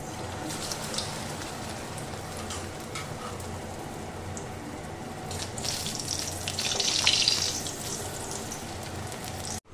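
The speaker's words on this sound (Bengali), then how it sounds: "এবার আমি এটাকে ভেজে নেব" Chicken buns frying in oil, a dense continuous crackling sizzle close by, swelling briefly louder toward the end before cutting off, with no speech.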